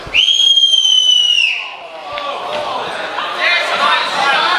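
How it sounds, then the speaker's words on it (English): During a snooker shot at a European championship final, a spectator gives one loud, sharp whistle that rises and then holds. Murmuring crowd noise and a few knocks follow. "Somebody's just whistled and put him off."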